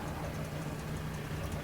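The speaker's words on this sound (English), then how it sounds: "it's idling" A Mahindra Roxor engine idles steadily, a constant low hum with a faint, even low-pitched drone and no talk over it.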